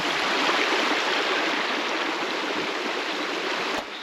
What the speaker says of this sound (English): This creek right here that's closest to my campsite is called Caney Creek.